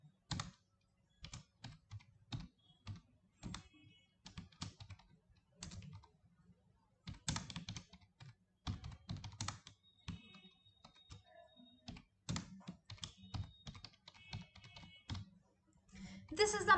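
Code is typed on a computer keyboard in short, irregular bursts of crisp, close key clicks separated by brief pauses, with a louder flurry of keystrokes near the end.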